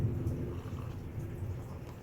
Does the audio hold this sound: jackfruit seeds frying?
no